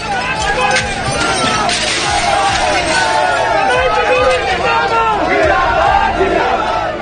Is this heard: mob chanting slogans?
yes